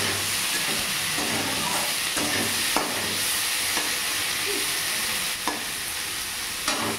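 Onion frying in a pan with a little salt, a dense steady sizzle and hiss heard up close, with occasional scraping stirs and no voices.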